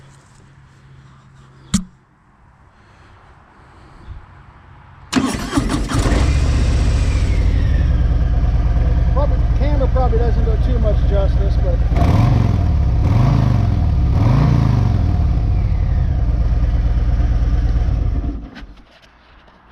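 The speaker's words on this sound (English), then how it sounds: "Now we can fire this thing up to see how this exhaust sounds." A motorcycle with a stock exhaust cranks and fires up, then settles into a loud, throaty idle with a few revs before shutting off; a voice speaks briefly over it.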